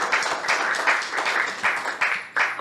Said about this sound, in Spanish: Y ahora ustedes aplauden.